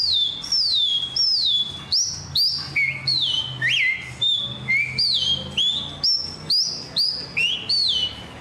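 A male large-billed seed finch (bicudo) sings to his female: a clear, loud series of rising and falling whistled phrases repeating at a steady rhythm, close by, with faint background murmur.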